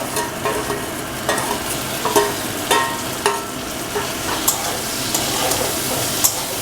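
Shrimp with potato, onion and garlic frying in a village kitchen pan while a utensil stirs, giving a steady sizzle with repeated scraping clacks of the spoon against the pan.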